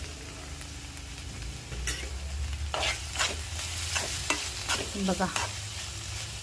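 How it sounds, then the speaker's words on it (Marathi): Thecha, a relish of green chili and spring onion, sizzles steadily in a pan while a spatula scrapes and stirs it in repeated strokes. A brief word is spoken once over the cooking. "आता छान असा परतून घेतला ठेचा"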